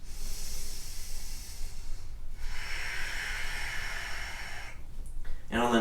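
Slow, deep breathing during a vinyasa yoga flow, with airy, hissing inhales and exhales close to the mic, quiet and steady with a brief pause midway.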